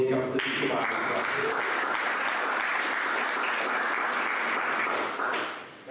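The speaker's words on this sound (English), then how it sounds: "Can we give Abdullah a big round of applause as he comes to teach about himself?" A church conference audience applauds a speaker as he takes the stage. The clapping is dense and sustained, with a few early louder claps, and it fades out near the end.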